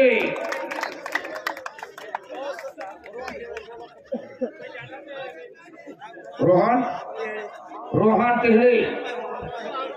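Audience at a women's yoga performance event claps for two yoga performers, with a couple of brief bursts of applause rising over ongoing chatter and talk from the crowd.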